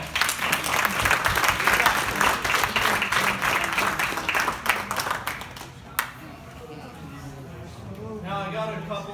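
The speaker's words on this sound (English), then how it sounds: "let's give him one more round of applause" Audience applause fills an awards-night gathering at a school year-end ceremony, sustained dense clapping that gradually thins out and fades, giving way near the end to a voice starting to speak.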